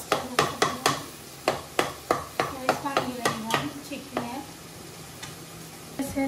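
Bitter gourd and potatoes fry in oil while a spatula stirs them in a pan, with a steady run of sharp rhythmic scrapes over a low sizzle, close and loud, easing off toward the end.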